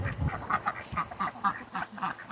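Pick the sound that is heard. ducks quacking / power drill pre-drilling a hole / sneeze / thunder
ducks quacking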